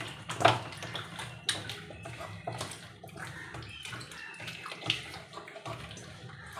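Chicken pieces marinated with oil and coriander are worked by hand in a bowl, making irregular wet squelches and slaps, close and fairly quiet, with a few sharper squishes.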